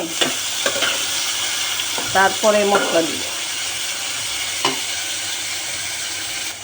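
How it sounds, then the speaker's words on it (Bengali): Onions with green chilies are stirred and fried in a pan for a potato, eggplant and dried mola fish curry, giving a continuous sizzle with a burst of scraping stirring in the middle, while someone talks over it. "এই তরকারিতে একটু নাড়াচাড়া করে পেঁয়াজটা একটু কষিয়ে নিয়ে"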